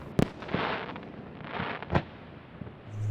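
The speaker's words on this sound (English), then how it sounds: "the intricacy that goes into each one of these individual fireworks" Fireworks at the Lopez community fireworks show go off in sharp bursts, one after another, with rumbling, crackling booms trailing between the louder reports.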